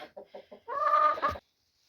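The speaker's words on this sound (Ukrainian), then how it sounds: "Ось, кури ще несуться." A hen in a henhouse where hens are laying gives four quick short clucks close by, followed by a longer, drawn-out cackling call.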